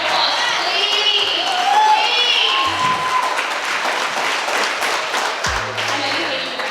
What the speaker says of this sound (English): So let's all give her a round of applause, please.